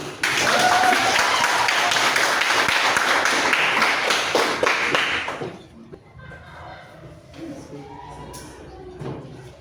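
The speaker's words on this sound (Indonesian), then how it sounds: "Kita beri tepuk tangan." A class of students claps together for a presentation in a classroom, a dense, loud burst of hands lasting about five seconds before fading into quieter room noise and scattered sounds.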